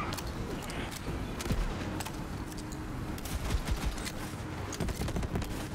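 Chaotic explosions and bursts of gunfire in the video game Guns, Love, & Tentacles, a dense continuous barrage with sharp loud blasts scattered throughout, under brief excited talk.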